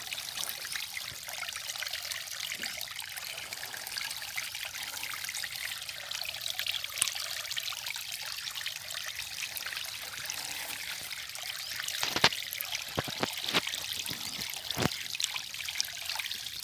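Water trickles and pours steadily out of a tadpole nursery pond as it drains, a continuous wet rush nearby with a few louder splashing spurts toward the end.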